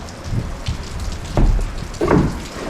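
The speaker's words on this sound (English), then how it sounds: "it is decided that it wants to start raining" Rain begins falling on an off-grid house building site, with a loud, close patter and scattered heavy drops striking surfaces in uneven bursts, no voices.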